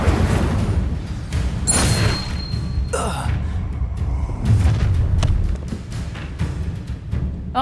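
Incendio fire spells cast in Hogwarts Legacy burst out as loud whooshing booms, separated by thumps and other game effects, with a voice speaking in between.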